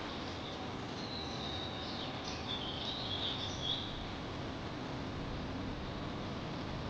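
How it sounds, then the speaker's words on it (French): Added birdsong effect over an architectural flythrough: faint, scattered chirps and tweets sit in the first few seconds above a steady soft hiss of background noise. "Je survole avec le bruit des oiseaux."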